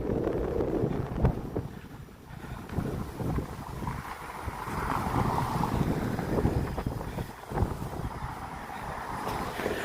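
Strong cold wind gusting through a downtown city street near University Avenue and Dundas, buffeting the microphone in steady rushing waves with louder bursts, no talking.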